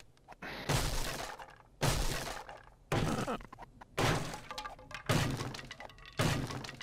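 Someone breaking into a house in the hunting game The Hunter, a series of six heavy, evenly spaced smashing thuds with a glassy crash in each, loud and close, with no voices.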